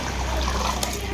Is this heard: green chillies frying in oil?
no